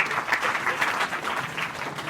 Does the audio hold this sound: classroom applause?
yes